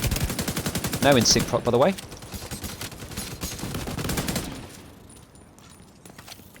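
Gunfire in The Division 2 rattles in rapid automatic bursts that fade toward the end, with a player talking over the shooting.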